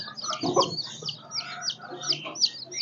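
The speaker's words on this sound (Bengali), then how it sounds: "এগুলো সব সিল্কির বাচ্চা" Young silkie chicken chicks cheep in a busy chorus of high, repeated peeps, mixed with a few lower clucks close by.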